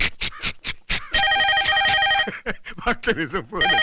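A mobile phone ringtone sounds in a Telugu film scene, a steady multi-tone ring that runs for a couple of seconds between stretches of dialogue. Voices talk before, during and after the ring.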